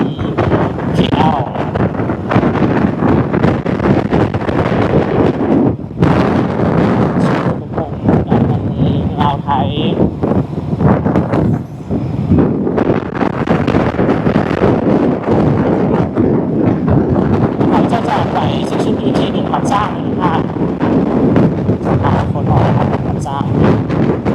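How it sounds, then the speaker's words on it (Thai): Cool wind blows along a street in Vientiane, Laos, buffeting the microphone in loud, continuous gusts with a low roar, and voices are heard faintly beneath it. "แต่ว่ามันก็จะมีลมแบบเย็น"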